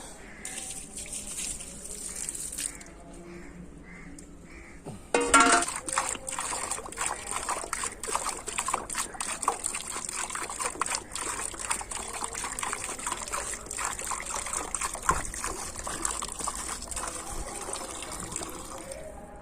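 Water trickles and gushes steadily and fairly faintly for a long stretch. A quieter lead-in comes first, and then a louder continuous flow with irregular dribbling spatters begins partway through.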